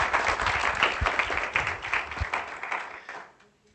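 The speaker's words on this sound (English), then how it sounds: "Can we give Professor Ndege another round of applause, please?" A graduation ceremony audience applauds a professor, a dense round of clapping that holds steady, then thins out and fades near the end.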